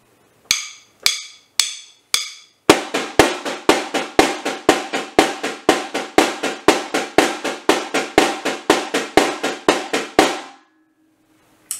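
A caixa snare drum gives four spaced hits, then settles into a fast, steady marcha pop groove of crisp strokes that plays alone for several seconds before stopping.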